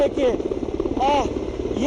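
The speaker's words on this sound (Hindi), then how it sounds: "आवाज जो हेलीकॉप्टर की आवाज है वो हम सुन सकते हैं, काफी नजदीक है" A helicopter passing close overhead during a flower-shower flyover at RIMS and CCL hospitals in Ranchi, its rhythmic rotor chop pulsing steadily with a whining engine tone over a reporter's continuous talk.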